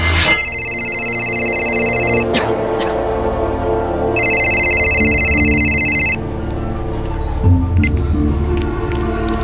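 A telephone rings with an incoming call in a tense crime drama scene, two long electronic ring bursts sounding over a droning music bed.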